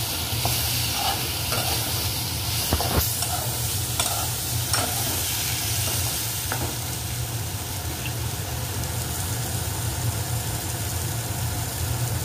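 Ground cumin paste sizzling in a frying pan for a home-style fish curry with potato and pumpkin, a continuous loud frying hiss broken by occasional stirring clicks and scrapes, close up.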